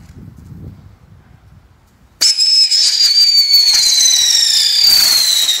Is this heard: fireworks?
yes